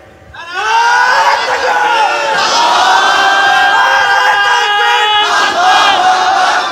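At a Bengali Islamic sermon, a large crowd shouts takbir in unison, a loud, sustained chorus of many voices that swells after a quiet start and stays strong.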